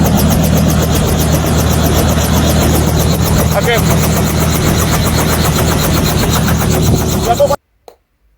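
A helicopter's rotors throb in a rapid steady chop under a loud engine roar, close by, then cut off abruptly near the end.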